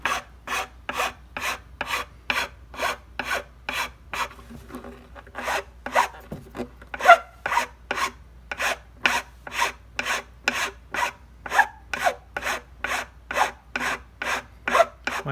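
Hand file rasping across the back edge of a wooden violin nut during restoration, a steady run of about thirty quick, even strokes with a brief slower pause midway, close and fairly loud.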